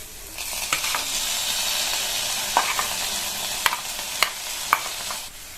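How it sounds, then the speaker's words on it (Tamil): Steamed cabbage is stirred with lightly sautéed onions in a pan, giving a steady close sizzle with a few sharp scrapes and clinks of the spoon against the pan. "முட்டைக்கோசை சேர்த்துட்டு நல்லா இந்த மாதிரி கலந்து கொடுத்துருங்க."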